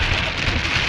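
Steady rain pours down, a dense, loud, even hiss of drops striking surfaces close by, with no voices.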